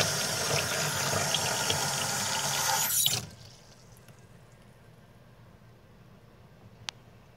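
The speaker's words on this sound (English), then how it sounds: "I'm going to pour some cold water right away" Cold water pours steadily over a Pajero diesel engine thermostat for about three seconds, then stops abruptly, leaving a quiet room with one small click.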